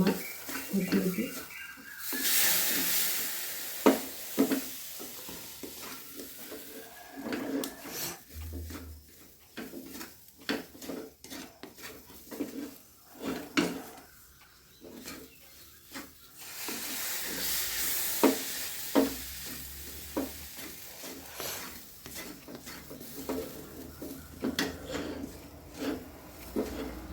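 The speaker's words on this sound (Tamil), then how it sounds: "கொஞ்சம் கொஞ்சமாக ஊற்றி கிளறணும்." A spoon stirs rava laddu mixture in a pan as milk is poured in little by little, giving soft scraping and faint sizzling in bursts, with a person talking over it.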